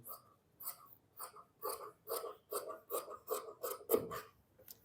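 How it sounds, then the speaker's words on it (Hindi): Scissors snip through kameez fabric for a boat neck cut in a steady series of about a dozen crisp, close cuts, each followed by a brief pause. "तो यहाँ तक ये कटिंग कर दी, अब नीचे से भी कर देंगे"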